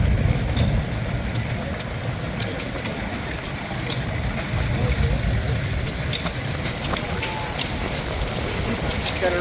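An engine drives a self-driven water pump pumping up to a water tank at the Clarendon Classic 2025 show, running with a steady low mechanical hum and light rhythmic ticking, continuous and moderately close.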